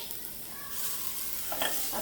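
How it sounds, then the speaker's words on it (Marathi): Raw green tomatoes sauté in a pan for a chutney, giving a soft, quiet sizzle with light stirring scrapes that grow a little busier toward the end. "आठ ते दहा मिनटं टॉमॅटो बघा परतून घेतलेत"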